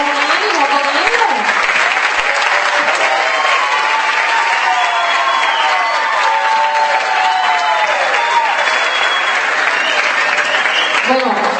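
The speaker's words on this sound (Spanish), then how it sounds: "Un fuerte aplauso, por favor." Sustained, loud applause from an audience at a university bioscience week event, a continuous wash of clapping with voices and tonal sounds running beneath it.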